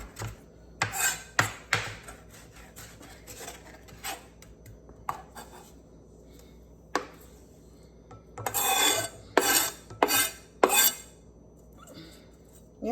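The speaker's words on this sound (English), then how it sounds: "I think I'm going to chop a little bit more because that is a good bit of onions and lettuce." A knife chops onions and lettuce on a board in irregular bursts, sharp close scraping cuts with quiet gaps between, louder clustered strokes near the end, with no talking.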